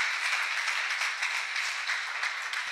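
A church congregation claps in praise at a healing ministry service, giving a steady, dense round of applause that holds evenly at moderate distance for its whole length.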